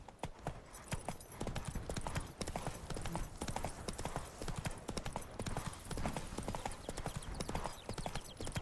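Roach the horse's hooves clip-clop in a steady trotting rhythm on the ground in The Witcher 3, close and continuous, with faint game music and ambience beneath.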